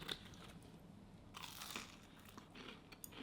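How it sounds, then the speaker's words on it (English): Sharp bites into a chicken nugget coated in a crisp batter and cooked in a McDonald's toy nugget maker, giving a few close, crisp crunches with crinkly chewing between them and no talk. "Amazing crunch."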